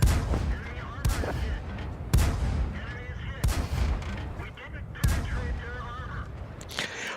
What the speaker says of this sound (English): I like the fact that it has a rapid fire gun.